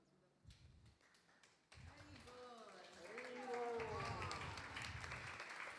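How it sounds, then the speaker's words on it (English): Parents clap at a Sunday feast gratitude ceremony in a temple hall, the applause swelling louder over a few seconds, with voices and talk mixed in. "We can clap louder."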